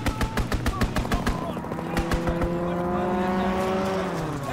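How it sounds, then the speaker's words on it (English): In Call of Duty: WWII, a fighter plane's strafing run unleashes rapid, loud machine-gun bursts, followed by a rising engine roar as the aircraft sweeps past. "Fighter pilot inbound. Strafing the target."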